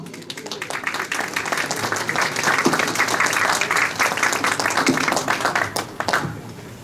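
A crowd at a senator's campaign kick-off event gives sustained, full applause for an introduced guest, Dr. Zhang Xiang, a dense, even roar of clapping that holds steady for several seconds before fading.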